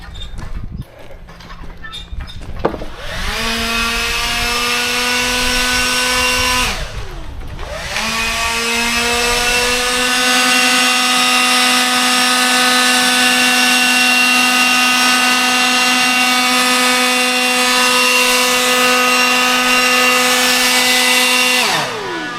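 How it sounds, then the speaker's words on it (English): A leaf blower starts up and drones steadily at close range with a loud, high whine, briefly dipping once before spinning back up and running continuously. "Watch what Tom does with the leaf blower"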